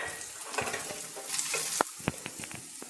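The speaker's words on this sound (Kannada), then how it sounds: "ನಾನು ಸಣ್ಣ ಸಣ್ಣದಾಗಿ ಕಟ್ ಮಾಡಿಟ್ಟಿರೋ ಬೀನ್ಸ್ ಸೇರಿಸ್ತಾ ಇದ್ದೀನಿ" Chopped beans and curry leaves fry with onions, a steady close sizzle with occasional sharp crackles and stirring clicks toward the end, no voices.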